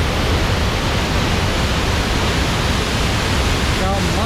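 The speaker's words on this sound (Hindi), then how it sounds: "beautiful waterfall" The waterfall at Agumbe roars loudly and close by as one continuous, unbroken rush of water. A brief voice comes through near the end.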